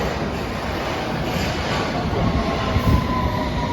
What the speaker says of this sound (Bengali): দেখাই আন্ডারগ্রাউন্ড ট্রেন